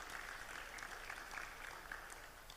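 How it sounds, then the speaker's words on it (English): Audience applause at an international publisher congress, welcoming a panel speaker: a faint, steady patter of clapping from a distant crowd, continuous throughout with no voices over it. "Please give a round of applause to Mr."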